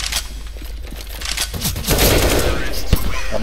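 Rapid machine-gun-style bursts from a Counter-Strike: Global Offensive match, a quick string of close, punchy shots running through the short stretch, with a voice faintly underneath.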